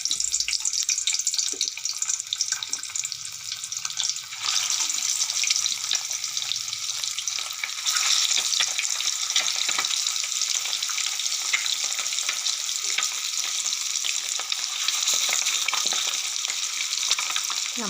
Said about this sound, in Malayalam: നമ്മുടെ എണ്ണ ചൂടായി വന്നിട്ടുണ്ട് അപ്പം നമുക്കിതിലേക്ക് മുട്ട വരക്കിയിട്ട് ഫ്രൈ ചെയ്തെടുക്കാം